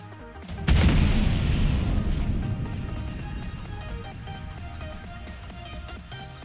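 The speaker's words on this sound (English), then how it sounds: "And two size 4 missiles next." A spaceship in a space combat game launches two size 4 missiles, a sudden loud booming blast that rolls on and slowly decays over several seconds.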